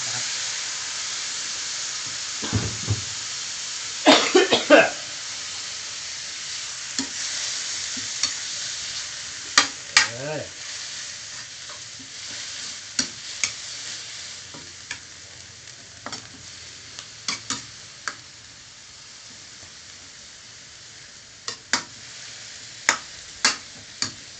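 Pickled bamboo shoots and minced pork stir-frying in a wok for a spicy Thai stir-fry, with a steady sizzle and repeated scraping and clanking of the spatula against the pan throughout.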